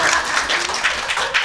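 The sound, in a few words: applause for a student presenter in class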